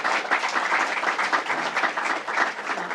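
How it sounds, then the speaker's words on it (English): Audience applause at a governor's bill-signing event, steady continuous clapping from a crowd filling the whole short stretch. "Let's give another round of applause for Elizabeth."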